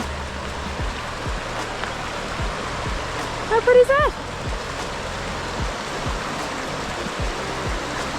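A river runs through Arrowtown, New Zealand, a constant close rushing wash under brief talk from a person nearby.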